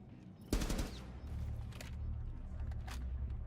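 Rapid bursts of 556 rifle fire in a Rainbow Six Siege match, starting with a loud, sharp volley and continuing as a dense rattle of shots over a steady low game-ambience rumble.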